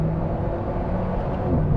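An Alpine A110 without the sports exhaust gives a steady, loud, wind-rushy rumble from its engine and exhaust, like a blast furnace, with no voices over it.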